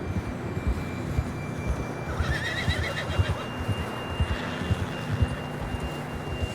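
A horse whinnies in the Western video game Red Dead Redemption 2, a drawn-out neigh rising over a steady background of outdoor ambience and soft hoof clops, with no talking.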